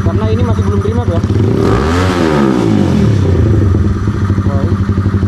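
A fuel-injected Honda CB motorcycle engine, not yet remapped, revs hard toward its RPM limit, rising and falling in a steady loud near drone.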